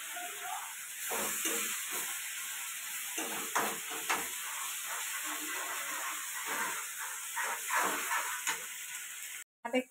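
Masala of ginger, onion, garlic and chilli cooking in oil, giving a steady soft hiss and sizzle with occasional stirring clicks, moderately quiet and close, with no talking.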